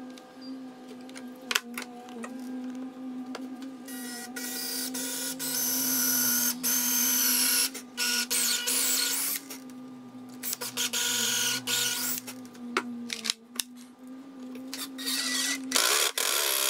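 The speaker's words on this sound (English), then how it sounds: "I'll drill them, countersink it, and then screw in the screw." A power drill bores and drives screws into timber for an outdoor seat, with a steady motor whine in bursts of whirring and several sharp clicks and knocks between runs.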